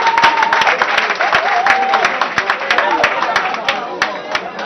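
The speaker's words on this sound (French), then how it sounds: "tout ce qu'on demande, c'est les applaudissements" An audience claps at a concert-style event, a dense burst of applause with sharp individual claps, steady and fairly loud, while a voice speaks over it.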